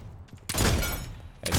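Gunfire from the video game Realm Royale, a loud sustained blast of shots that swells after a few quieter taps and holds for about a second before another burst starts at the end.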